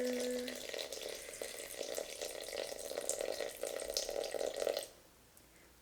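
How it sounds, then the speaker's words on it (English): Room-temperature water pours steadily into a bowl for sourdough dough, a continuous splashing stream lasting several seconds before cutting off abruptly near the end, with no talking. "You take your room temperature water. That is important. We're doing 350 grams of this. So, I'm gonna pour our water."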